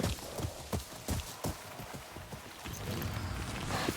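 Horse hooves clip-clop in a video game, a run of distinct, fairly close hoofbeats in an uneven rhythm that give way to a softer, steadier rumble of movement.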